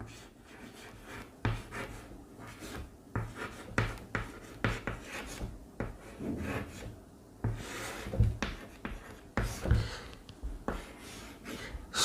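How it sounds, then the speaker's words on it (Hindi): Handwriting to explain a Sanskrit sandhi grammar example, irregular scratchy strokes and taps with some breathing, close and fairly steady over several seconds, no talk. "मैं लिख के बता देता हूं आपको"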